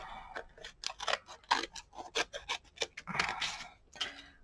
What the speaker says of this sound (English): So this is a little harder to cut because it's a postcard